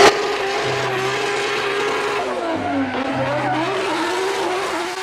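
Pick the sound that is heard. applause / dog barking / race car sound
race car sound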